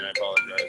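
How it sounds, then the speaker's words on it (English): A mobile phone ringtone plays during an online wine-industry video call, its steady electronic tones sounding beneath a person apologising. "I'm sorry my phone keeps ringing"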